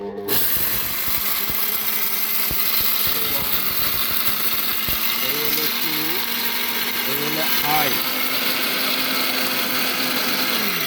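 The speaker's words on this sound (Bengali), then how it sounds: "আমি ব্লেন্ডার চালানোর সিস্টেমটা দেখাই" An electric blender runs continuously with a steady, buzzing motor whir for about ten seconds after a sharp start, while a person talks over it.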